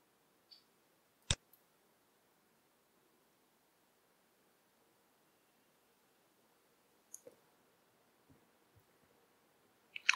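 A few sharp computer mouse clicks spread irregularly over a quiet near-silent background, one distinct click early, then a couple more with faint handling noise toward the end.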